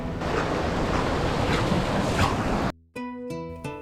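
Surf breaking steadily on Long Beach, a sand beach in the Bay of Islands, New Zealand, with a loud continuous wash and some wind buffeting, cut off abruptly near the end by a few soft musical tones.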